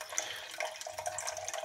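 Boiled water poured to rinse silver-bearing crystals recovered from old microchips, a soft trickling and dripping into a container, faint and continuous.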